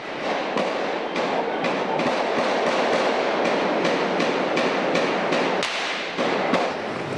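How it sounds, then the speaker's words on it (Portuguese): Rapid gunfire crackles through a police shootout in the Rocinha favela, a dense run of sharp, evenly spaced reports from a distance over a constant rough background, one shot standing out louder near the end. "Os bandidos não param de atirar."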